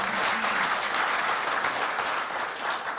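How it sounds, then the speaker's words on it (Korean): Attendees at a defense industry society breakfast forum applaud together, a dense, even wash of many hands clapping continuously for a few seconds in a banquet room. "박수 한번 칩시다."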